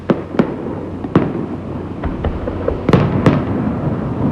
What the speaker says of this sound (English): As the charges went off, a shudder went through the building.